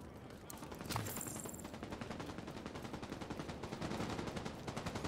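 Rapid automatic gunfire rattles through a firefight in the video game The Division 2, fast repeated shots at an even pace, with a brief sharp burst near the start and the shooting continuing unbroken to the end.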